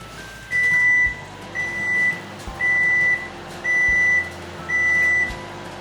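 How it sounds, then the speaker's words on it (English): A convection microwave oven that has preheated to 180 degrees centigrade beeps five times in a slow, even series. Each tone is loud and clear and lasts about half a second, with no talking. "when the oven is hot and reaches 180 degrees centigrade, you will hear a beep"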